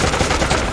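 Rapid automatic bursts from the Institute EM rifle in Fallout 4, a loud, dense stutter of shots packed tightly together.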